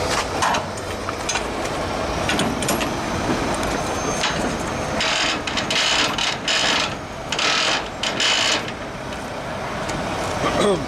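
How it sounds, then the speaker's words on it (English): Semi-trailer landing gear dollies cranked by hand, giving steady ratcheting, clicking gear noise throughout, with louder bursts of metallic clatter midway and no talk. "As you get more experienced with the dolly cranks, you can get your own little way of being faster at cranking the dollies."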